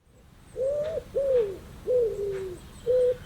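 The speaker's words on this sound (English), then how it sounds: "pigeon" A pigeon coos four times in a steady run of soft, low, rounded calls with short gaps between them, heard alone against faint background hiss.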